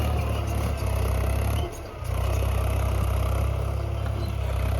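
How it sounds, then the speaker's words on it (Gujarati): A tractor engine on a sorghum farm rumbles steadily nearby, dipping briefly in the middle, then chugs on at a low, constant throb as it pulls away. "હવે આ ટ્રેક્ટર જશે ઝાડ પૂંખવા"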